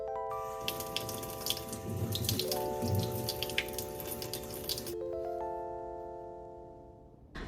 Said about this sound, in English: We have to wash and pat dry each one of these slices of eggplant to get off some of that salt